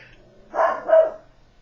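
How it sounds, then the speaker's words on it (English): A pet dog gives two short barks in quick succession from across a quiet indoor room, moderately loud, with near silence before and after. "that's one of my doggies"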